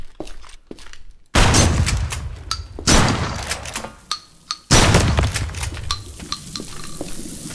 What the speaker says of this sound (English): So normal fire, it's gonna fire a shotgun.